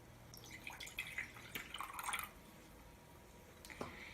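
Water pours and drips from a jar into a shared vessel during a Unitarian church water ceremony, a brief soft splash followed by scattered drips, faint against a quiet room.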